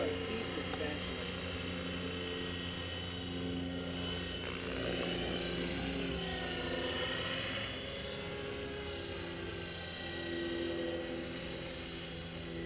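EXI radio-controlled model helicopter in flight outdoors, a steady high-pitched whine and buzzing rotor drone that shifts in pitch as it moves, continuous and fairly close.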